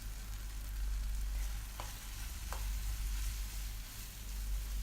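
Tomato and chana masala spices sauté in hot oil with a constant, close sizzle, broken by a couple of brief scraping stirs.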